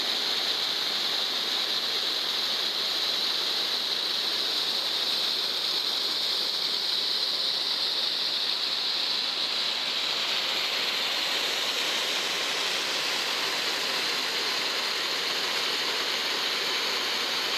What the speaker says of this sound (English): the water was coming out of the pipe